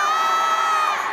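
An audience at the Asia Song Festival concert cheers and screams steadily, with high-pitched shouting sustained loud throughout, as the MCs are welcomed on stage.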